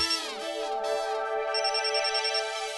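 A mobile phone rings with a bright melodic electronic ringtone, sustained and fairly close, with no one talking over it.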